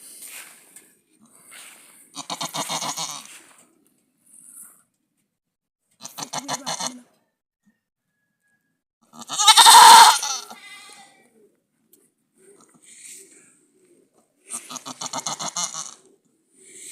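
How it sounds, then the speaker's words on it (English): A goat in labor bleats and strains in repeated loud, wavering cries separated by pauses of silence, close by, with one especially long, harsh call partway through. "one of our goats is having kid"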